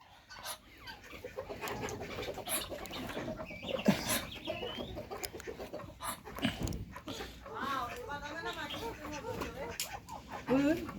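Chickens cluck and call in a garden in Oman, the clucks scattered and close amid a busy farmyard, with a dog also heard and people talking over much of it.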